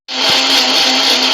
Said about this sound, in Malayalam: ഇപ്പോൾ ഉഴുന്നും പെപ്പറും കൂടെ ഞാൻ അരയ്ക്കാൻ പോവാം.